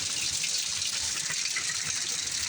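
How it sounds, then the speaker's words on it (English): Heavy storm rain pours down and splatters off a door close by, a dense, steady hiss of spattering water that holds at an even level throughout the short stretch. "water's splattering off of it."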